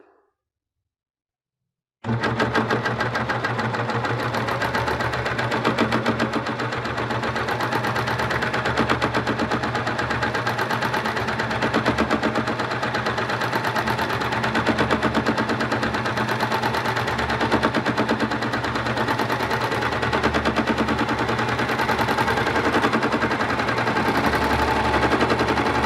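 A Babylock serger overlocker runs steadily at high speed, sewing a decorative wave stitch on thick denim, its rapid mechanical chatter continuous and loud after a brief silent start.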